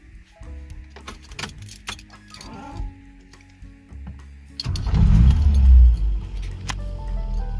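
Keys jingle and click in the ignition of a hot 1977 Vauxhall Cavalier MK1 with a Weber 32/36 DGV carburettor, then the engine cranks, catches and runs loudly and steadily up close.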